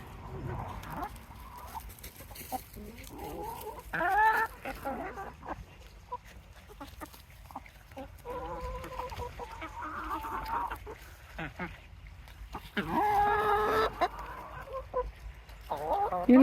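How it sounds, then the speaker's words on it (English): Several chickens cluck and squawk nearby in irregular bursts, with a person calling to them now and then. "Chickens, chickens, chickens, come on."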